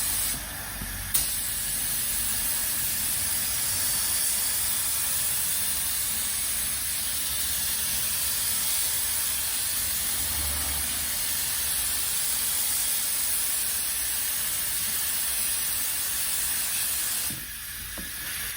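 A spray gun with its pressure turned down lays primer onto the bonnet of a classic Mk5 Ford Escort inside a workshop, a steady loud hiss lasting about seventeen seconds before cutting off.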